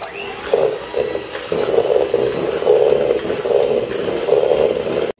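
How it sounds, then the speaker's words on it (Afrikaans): Electric mixer beating a vanilla batter for old-fashioned coconut cookies until creamy, a whirring, rattling motor that starts and stops in short bursts, then runs steadily before cutting off. "dan gaan ons hierdie net klits tot romerig"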